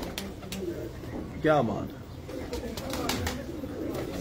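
A teddy pigeon gives a single short, throaty coo at close range in a Lahore loft, set amid men chatting and faint background bird chatter.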